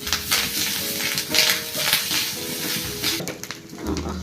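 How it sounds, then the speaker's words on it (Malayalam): Grated coconut, about three-quarters of a cup, roasting in hot coconut oil in a pan for Kerala-style chicken curry, with steady sizzling and frying crackle plus occasional stirring scrapes, close and continuous throughout. "ഇപ്പോൾ തേങ്ങ ഞാൻ വറുത്തെടുത്തിട്ടുണ്ട്."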